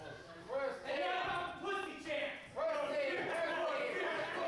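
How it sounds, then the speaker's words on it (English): A wrestling crowd jeers at wrestler Devin Davids in waves of loud, sustained voices swelling and falling, with a commentator's voice running alongside. "And the crowd getting on Davids."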